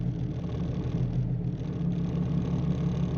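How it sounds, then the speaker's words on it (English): A 1999 Jeep Cherokee SE straight-six engine runs steadily at close range, a continuous low rumble with an even idle pulse and no talk over it. "for a straight 6, they have a distinct sound, a little different than a V8"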